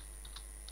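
Keys tapped on a computer keyboard while typing a name into a cruise membership registration form, a few light clicks spread across under a second, faint and close with no talk.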